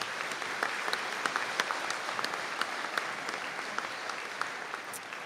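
Audience applause at a Donegal conferring ceremony, a steady, even round of clapping from a seated crowd in a hall, moderately loud and sustained throughout with no talk over it.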